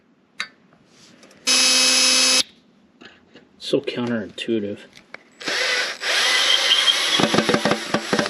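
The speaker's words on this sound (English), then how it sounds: "The drill bit's cutting." A left-handed drill bit cuts into a cracked 1939 Caterpillar D4 diesel engine block, giving bursts of harsh grinding, whirring and ratcheting close by, separated by pauses, while people talk between the bursts.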